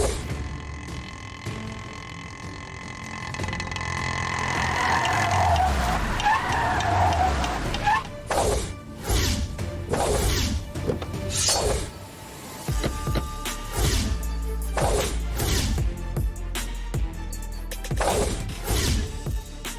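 A car skids and crashes in a Tamil TV drama street scene, a long smeared rush of noise building and then breaking into a run of loud, sharp impacts and clatter that fill the rest of the moment, with no voices over it.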